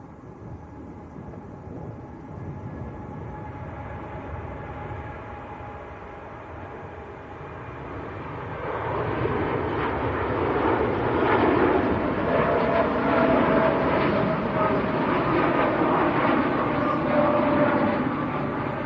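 A Saudi airliner bound for Jeddah flies at Manchester Airport, its broad jet roar steady and somewhat distant at first, then swelling louder midway and holding strong to the end.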